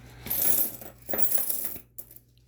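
A bag of mixed foreign coins pours out in two bursts of metallic jingling and clinking, close and bright, with a few stray coins rattling down at the end.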